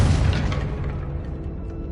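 A Confringo spell explosion in Hogwarts Legacy: a single deep, loud boom hits at once, then rumbles and fades away over about two seconds.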